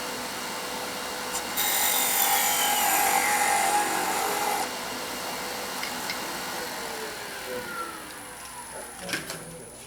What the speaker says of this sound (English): I'm going to come in with the parting tool and cut it down there